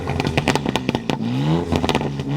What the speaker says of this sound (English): we need to fix this car's sound, because how a car sounds really determines its personality